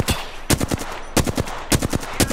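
Covering gunfire in the game Apex Legends comes as loud, close bursts of rapid automatic shots in several clusters with short pauses between them, no voices.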